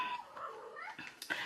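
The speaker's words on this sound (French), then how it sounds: "si vous entendez miauler, c'est mon chat" A house cat meows indoors, a few drawn-out, wavering calls in quick succession over about a second and a half, fairly close and clear with no talking.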